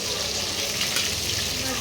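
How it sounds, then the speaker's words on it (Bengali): Prawns fry in hot oil for a Bengali prawn malai curry. The close, continuous sizzle and bubbling has a faint stirring texture and stays steady throughout. "প্রতিটা মাছকেই এভাবে অল্প করে ভাজবি"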